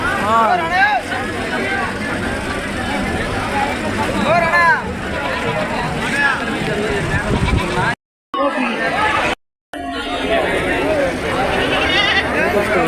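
Goats bleating again and again, wavering cries rising over a busy crowd murmur and steady market bustle at the Kunta goat market in Andhra Pradesh.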